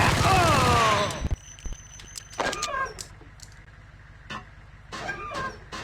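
Gunfire in Max Payne 1, a snowy pursuit in a blizzard, starting with a loud whining mechanical burst, then scattered sharp shots and cracks spaced through the rest, fairly close.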